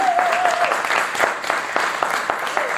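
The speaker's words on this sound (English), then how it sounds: "So give them a big round of applause." Audience applause for the State Street Miracles singers at a Swarthmore Rotary gathering, steady clapping throughout with sharper individual claps standing out and a brief faint tone near the start.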